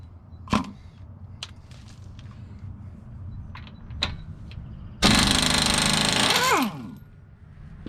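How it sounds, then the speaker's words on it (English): An impact wrench breaks loose the 21 mm lug nuts on a 2011 Nissan Altima wheel, a close, loud buzzing burst of about a second and a half among scattered clicks and clanks. "so you can crack these lug nuts loose"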